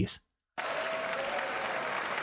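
Applause during the State of the Union address in a large chamber, a steady dense wash of clapping that starts abruptly after a brief cheer and near-silence, continuing evenly and fairly loud.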